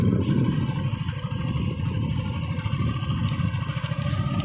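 A motorcycle rides along a rough road near a bamboo grove, its engine a steady, close mid-pitched rumble with rattling and clatter from the bumpy surface.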